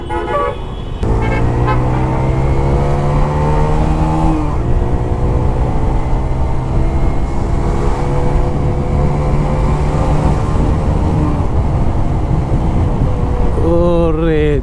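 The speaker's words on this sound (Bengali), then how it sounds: "কোনো একটা বাইকের সাথে স্পিড আপ করলে বোঝা যায় যে বাইকের পাওয়ার কেমন" A Suzuki GN125H motorcycle speeds up on a road beside another bike, its engine a loud, steady droning hum that climbs and shifts pitch through the gears, with passing traffic around.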